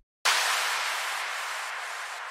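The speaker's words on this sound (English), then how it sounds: "we have an impact and a down filter playing" A techno impact hits suddenly after a short silence, then a downward-filtered noise sweep follows and slowly fades just before the drop, heard alone.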